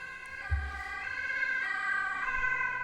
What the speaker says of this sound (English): There's a police car driving by,